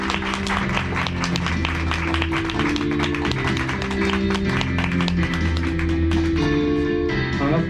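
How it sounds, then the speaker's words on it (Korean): An audience at a product seminar claps to welcome a marketing director, a busy patter of hands over sustained music that fills the background, loud and continuous before thinning near the end. "김현중 이사님, 큰 박수로 환영해 주십시오"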